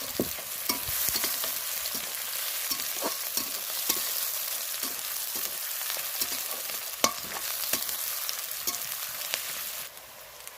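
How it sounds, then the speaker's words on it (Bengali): Chopped onion and garlic paste fry in a pan for a meat curry. A continuous hiss of sizzling oil runs beneath frequent sharp scrapes and taps of a stirring spoon, with no voices. "রসুন আর পেঁয়াজ একটু লাল করে ভেজে নিয়েই আমি"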